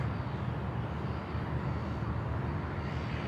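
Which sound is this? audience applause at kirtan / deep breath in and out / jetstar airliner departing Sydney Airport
jetstar airliner departing Sydney Airport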